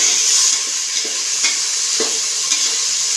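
Tomato stirred and fried in a pan for a chicken fry, giving a steady close sizzle broken by a few soft scraping strokes of the spoon, with no talk.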